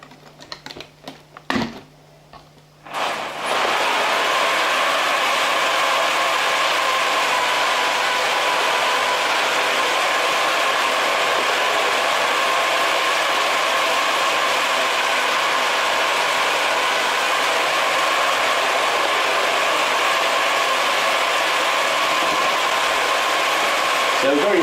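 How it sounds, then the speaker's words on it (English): A motorized camera car on its rig for filming diecast movies starts up after a few clicks, then whirs loudly and continuously up close with a steady mechanical drone. "this is going to be noisy now, I will turn the car on and you'll see"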